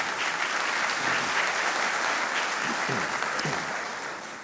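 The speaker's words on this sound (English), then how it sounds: "if we could hold the applause till the end of the show tonight, we really appreciate that." An audience at a Republican primary debate in the Tower Theater applauds, a dense sustained clapping from many hands that fills the room, loud throughout and easing slightly at the end.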